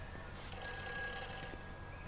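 A telephone rings inside a phone box in the video game Everybody's Gone to the Rapture, a shrill electronic trill that starts after a quiet moment and holds for about a second over a low ambient hum.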